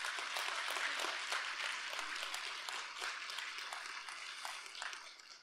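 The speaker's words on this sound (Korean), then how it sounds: "통역을 잘 해주신 황순일 교수님께 큰 박수 부탁드리겠습니다." Audience applause at a Korean Buddhist Sunday service and academic award ceremony, honoring a professor who interpreted; steady, dense clapping from a sizable crowd that holds throughout and tapers slightly toward the end, with no voices over it.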